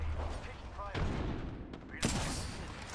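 Gunfire in the Apex Legends video game, with bursts of shots and a sharper blast late on, heard under a player's voice talking over a busy, noisy mix.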